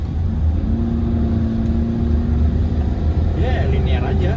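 A Hyundai Staria van accelerates in normal drive mode, its engine giving a steady, moderately loud drone that rises smoothly, heard from inside the cabin with a brief whine near the end.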